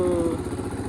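A CrossX300x motorcycle engine runs close by on a test ride, a steady mid-pitched drone with a throbbing pulse and a brief higher whine near the start, with no talk.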